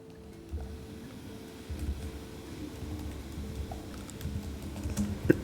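Notes are typed on a computer keyboard into billing software, soft quiet key taps in an irregular run over a low room hum, with no talking.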